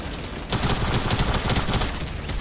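Rapid Fortnite gunfire bursts in a dense, loud fusillade, overlapping shots rattling continuously for about two seconds after a brief quieter lead-in.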